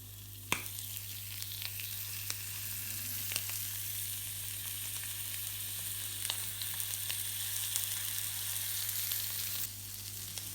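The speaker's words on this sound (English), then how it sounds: "So we want to sear it fat side down, and that's where we want to get our colour." Scallops sear fat side down in a hot pan, giving a steady, close sizzling hiss that continues without pause, with a few small pops and crackles and a low background hum.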